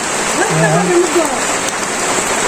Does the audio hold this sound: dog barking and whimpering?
no